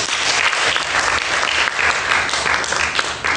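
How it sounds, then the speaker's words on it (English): Dense, steady applause from a seminar audience for a presenter at an education and labor talk, loud and continuous throughout with no break. "Can we give Dr. Tiongco a round of applause?"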